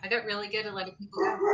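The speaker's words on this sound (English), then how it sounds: "But that's my dog." A dog barks a few times in the background, short yips heard beneath a person talking close by.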